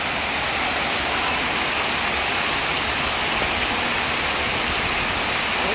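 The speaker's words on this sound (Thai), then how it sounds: "ฝนดีขนาด" Heavy rain pours down in a steady, dense hiss that never lets up, loud and close with no voices over it.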